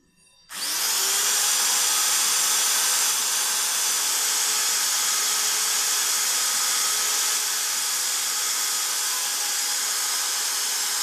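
Power tool machining carved plywood for an ash bench, starting abruptly after a brief quiet and then running as a steady, loud, high whine with a hissing cutting edge, close up and without voices.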